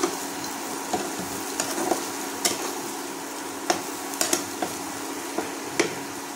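Potato bhujia fries in a pan on an induction cooktop, giving a steady soft sizzle broken by sharp clinks and scrapes as it is stirred, close up with no talking.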